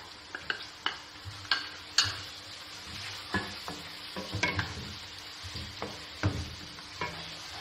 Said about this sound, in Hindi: इसमें अदरक लहसुन का पेस्ट डालूंगी मैं।